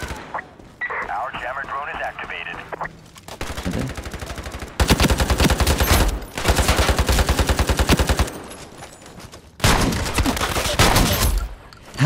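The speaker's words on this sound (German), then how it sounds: "Haha, mit der Shotgun." Loud shotgun blasts and rapid gunfire bursts from the online shooter game Ironsight, fired in a market area, coming in several dense clusters after a quieter opening with background game sound.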